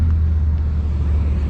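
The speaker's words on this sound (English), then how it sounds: "The car's coming in behind us." A car drives in behind the listener at a stadium charity car meet, giving a steady low engine drone and road rumble, fairly close and even in level for the brief moment, with no talk.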